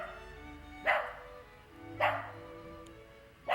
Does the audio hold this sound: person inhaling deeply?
no